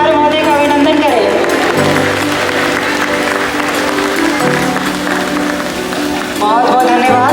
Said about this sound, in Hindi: कृपया जोरदार तालियों से हमारे प्रचार महोदय का अभिनंदन करें